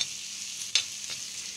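Masala with chili and coriander powder stir-fried in a pan, a steady soft sizzle with two brief scraping strokes of a spatula, close and alone without any voices.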